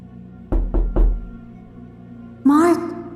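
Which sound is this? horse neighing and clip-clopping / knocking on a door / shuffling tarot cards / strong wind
knocking on a door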